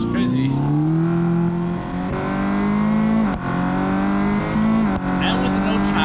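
A rear-wheel-drive car in BeamNG.Drive revs hard, its engine pitch climbing and falling through gear changes and brief throttle lifts, loud and close, with a hint of tyre squeal.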